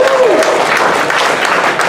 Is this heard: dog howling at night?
no